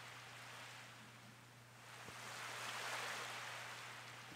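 Gentle surf rolling in Harvest Moon: A Wonderful Life, a continuous soft hiss of ocean water that swells into a broader wash midway, over a faint steady hum.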